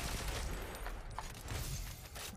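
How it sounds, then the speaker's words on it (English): Gunfire from a weapon in the video game Ghost Recon Phantoms: a steady, dense stretch of shots with no clear gaps, heard alone at a moderate level. "It doesn't shoot that fast, but it makes a lot of damage"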